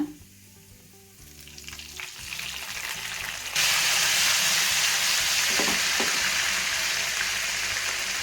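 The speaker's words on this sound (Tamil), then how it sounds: "இப்போ நாம் கரைச்சி எடுத்து வச்சுருக்கிற பெருங்காய தண்ணியை ஊற்றிக்கலாங்க" Asafoetida water hits a hot pan of ven pongal with fried cashews, bursting into loud, steady close-up sizzling that follows a few quieter stirring and clinking sounds.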